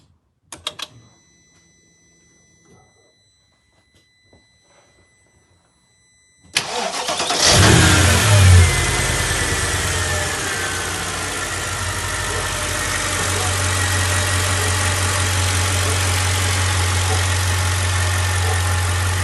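A Mercedes Sprinter W906 van fitted with a swapped M113 5.0 V8 petrol engine in place of its 2.9 TDI. A few faint clicks and knocks come first, then the engine cranks, fires loudly and settles into a steady, deep idle.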